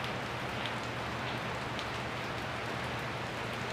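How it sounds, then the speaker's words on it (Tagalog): Steady rain falling on surfaces, a dense even hiss of drops throughout, fairly soft and with no voices. "ulan init po."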